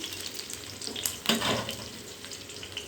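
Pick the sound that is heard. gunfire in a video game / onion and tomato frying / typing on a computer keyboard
onion and tomato frying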